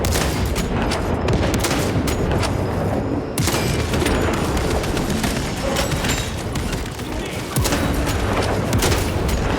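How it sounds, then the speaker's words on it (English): Frag grenade blast and heavy gunfire from the Space Marine 2 video game, a dense continuous barrage of loud booms and rapid shots, with a sharp explosive burst partway through. "Deploy frag grenade!"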